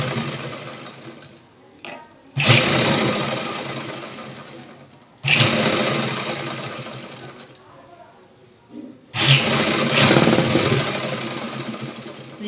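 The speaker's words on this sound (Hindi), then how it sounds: "तो ये देखिए हमने सिलाई लगा ली है" A sewing machine stitches blouse fabric in three loud, sustained bursts, each running a few seconds, separated by brief pauses where a voice can be heard talking.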